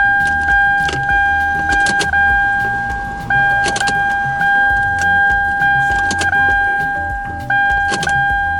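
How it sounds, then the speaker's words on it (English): Ignition of a third-generation Toyota 4Runner being switched on and off repeatedly to prime the fuel pump, each cycle bringing a steady pair of dashboard warning chimes over a low hum, with key clicks and faint jingling between cycles. "we're going to insert the key and turn it on and off maybe a total of about 10 times"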